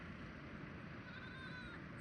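Goats out grazing bleat faintly and thinly from a distance over a steady outdoor background noise, with a few drawn-out calls toward the end.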